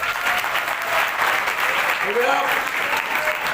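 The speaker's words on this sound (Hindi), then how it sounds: "जोरदार ताली इनके लिए।" Enthusiastic audience applause fills a school seminar session at St. A.G.C. Higher Secondary School, Nepanagar, a dense, steady clatter of many hands clapping close by throughout, with faint voices mixed in.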